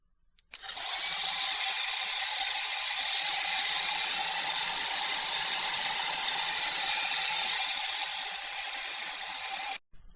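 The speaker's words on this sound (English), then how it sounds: "We're going to do this with a hairdryer to make it quick." A steady, close blowing hiss of a hairdryer drying a watercolor painting, running for about nine seconds, starting and stopping abruptly, with no voices.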